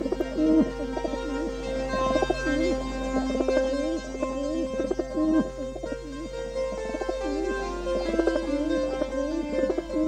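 Low pigeon coos repeat in a loud, steady rhythm over a constant low hum, with layered tonal sounds and no voices.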